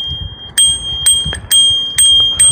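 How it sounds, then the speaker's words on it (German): A bicycle bell rings loudly and close by, flicked by thumb in five quick, evenly spaced dings, each leaving a bright sustained tone between strikes, with no voices. "Und zwar hat man ein Fahrradklingel am Fahrrad da."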